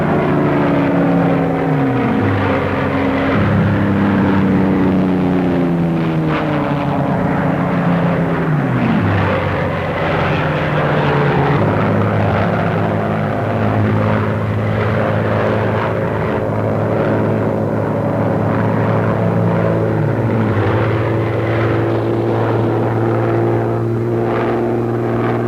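Boston bomber aircraft engines drone loudly and continuously in flight during a wartime daylight raid, a dense low propeller roar with slowly shifting pitch throughout.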